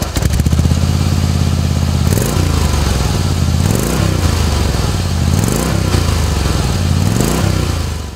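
A Harley-Davidson Softail Breakout's V-twin engine idles loud and close with a knocking, lumpy pulse, its note rising and falling in a few regular swells.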